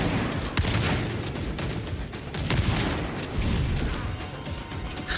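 Dense, continuous gunfire and explosions in the Warframe video game, loud and chaotic throughout with crashing impacts layered together.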